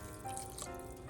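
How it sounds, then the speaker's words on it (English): A cup of water poured into a pot of pork ribs adobo, a brief, steady, soft splashing rush lasting about a second with no talk. "Let's add a cup of water"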